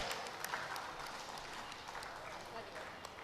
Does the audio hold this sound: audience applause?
yes